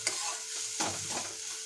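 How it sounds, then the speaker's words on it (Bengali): Onions frying in a pan, a soft continuous sizzle with a couple of stirring scrapes, close but fairly quiet. "পেঁয়াজটাকে একটু হালকা লাল লাল করে ভেজে নেব"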